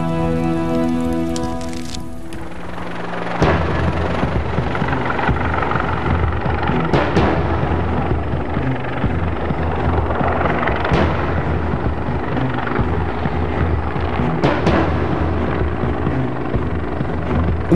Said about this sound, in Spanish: Una vez que el helicóptero que lanza las pelotas vuelve a tierra